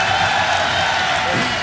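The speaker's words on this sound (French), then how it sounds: "on applaudit le premier candidat" Brief, dense burst of crowd applause with cheering at a convention stage show as a first contestant is greeted, a steady wash of clapping filling the moment.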